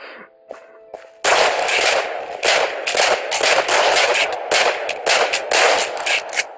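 Rapid bursts of gunfire from a gun in Minecraft crackle loudly after a quiet start, shots coming in quick, uneven volleys.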